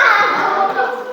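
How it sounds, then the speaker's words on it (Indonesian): Schoolchildren in a fifth-grade classroom clap together for a group, a short burst of close, dense clapping that fades slightly toward the end. "Tepuk tangan untuk kelompok kelinci."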